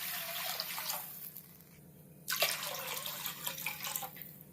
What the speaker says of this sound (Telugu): ఇప్పుడైతే 3 గ్లాసెస్ వాటర్ అయితే యాడ్ చేస్తున్నాను.